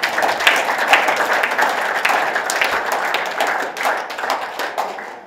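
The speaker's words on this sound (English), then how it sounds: "Can we please give him a round of applause?" Wedding guests applauding at a ceremony in a hotel venue, dense continuous clapping from a large crowd, loud and sustained with no speech over it.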